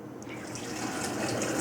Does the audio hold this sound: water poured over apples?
yes